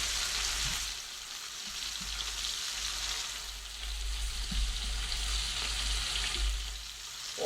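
Pork loin chops frying in about a quarter inch of oil with a tablespoon of butter, a steady soft hiss and crackle that holds close and even throughout, with no talking.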